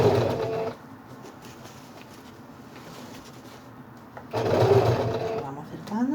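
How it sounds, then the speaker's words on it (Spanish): Sewing machine stitching quilted denim for a toiletry bag: loud, close motor whirring in two bursts with a quieter stretch between. "y empezamos a coser rematando"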